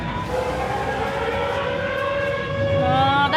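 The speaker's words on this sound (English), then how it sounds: "Oh, I hear a siren." A siren wails continuously with a rising and falling pitch over a low rumble, fairly loud and sustained without pause, at a Kentucky screampark haunted attraction.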